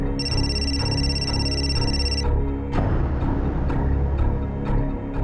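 A phone line rings with a steady electronic tone for about two seconds, then stops, leaving a few faint clicks and background hum.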